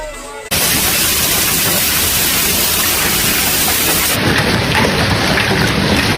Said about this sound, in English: the hail weather, from the perspective of the whole county, had a greater impact on Magwon Town.